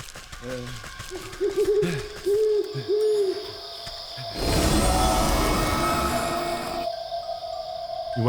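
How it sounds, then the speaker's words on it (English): An owl in the video game Wytchwood gives several clear, tonal hoots in a short series, followed by a broad whooshing swell of game sound. A voice is heard briefly near the start. "translating the owl's hoots into something more understandable"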